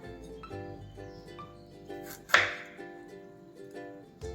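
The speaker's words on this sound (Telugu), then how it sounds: "ఆ లావులో కట్ చేసుకోండి. ఇలా చూపిస్తాను చూడండి." A knife cuts potatoes into thick pieces, with one sharp chop on the board standing out against faint, steady background tones.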